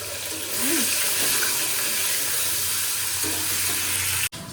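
Tap water runs in a steady hiss as hands are rinsed under it, a close, even wash of water lasting a few seconds before a sharp knock at the end.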